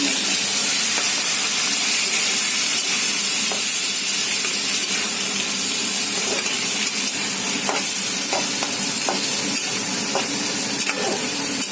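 Chicken pieces sizzling in a hot pan while cooking chilli chicken, a loud, steady hiss of frying with scattered crackles and pops running throughout, no talk.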